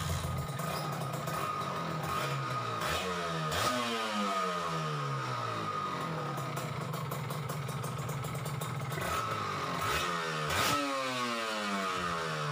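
A Kawasaki Ninja R/RR two-stroke engine is revved repeatedly to test a newly fitted clutch, its whining pitch climbing and falling in a series of close, loud blips with no talking.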